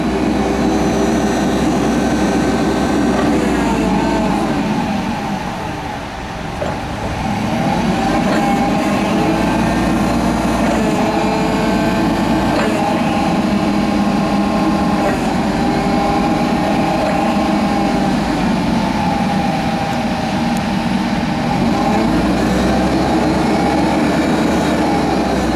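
A propane-powered 2008 Heli CPYD25C forklift with cushion tires runs steadily, a loud continuous engine drone with a brief dip in level early on, no voices.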